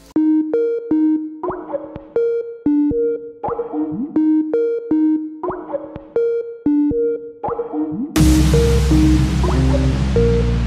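A show jingle plays as a bouncy run of plucky, pizzicato-like notes in a repeating rhythmic pattern, loud and alone, before it shifts into a fuller, noisier burst near the end.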